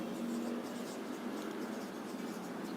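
A pen writes on paper while a Class 8 maths exercise is worked out: a soft, steady scratching runs through the whole stretch, close but low in level, under faint room noise.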